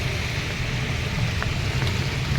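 Steady broadband hiss of rain falling, continuous and even throughout with a low rumble beneath, no voices.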